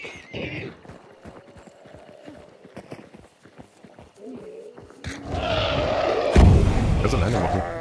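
A horse in the video game Hunt: Showdown, with rhythmic hoof clip-clops and a whinny early on that give way to a louder, denser burst of galloping and commotion near the end.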